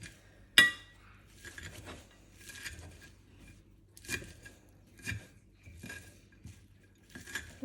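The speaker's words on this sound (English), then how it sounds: "I'm just chopping them closely, as close as I can." A knife chops ingredients for a homemade cheese toast on a board in sharp, irregularly spaced taps, one loud knock first and then softer cuts, close and without talk.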